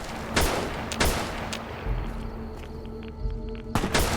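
Sharp gunshots in the video game Fallout: New Vegas, several loud cracks spaced irregularly with background game ambience and faint tones between them.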